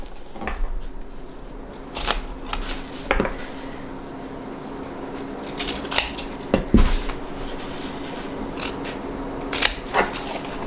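Scissors snipping through fabric corners while sewing a bag for pétanque boules, a series of close, crisp cuts at irregular intervals with short pauses between them.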